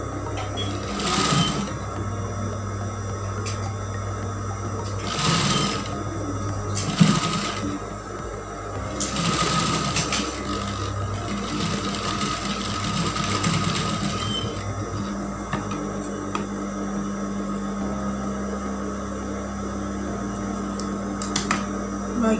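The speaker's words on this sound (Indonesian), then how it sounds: "jangan lupa kita kunci dulu jahitannya supaya tidak terlepas." A sewing machine stitches a 3D cloth face mask in several bursts of steady mechanical whirring, close and fairly loud, with brief pauses between runs and a long continuous stretch in the middle.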